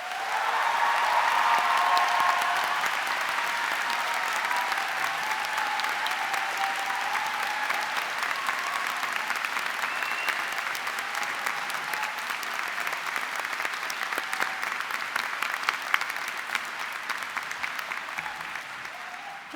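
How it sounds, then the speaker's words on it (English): Audience at a Central Saint Martins graduation ceremony gives a long, warm round of applause, loud and steady clapping from a large crowd filling the hall, swelling at the start and holding throughout with no speech over it. "giving them a warm round of applause to thank them for encouraging you to achieve your best"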